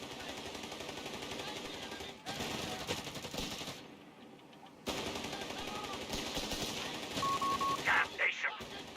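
Gunfire crackles around a command post in Company of Heroes 3, with dense machine-gun bursts and rattling shots, a short lull in the middle, and a few brief electronic beeps near the end.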